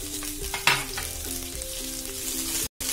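Diced capsicum and onion sizzle steadily in a hot pan while being stirred, a continuous close frying hiss with a brief sharper scrape partway through and no voices.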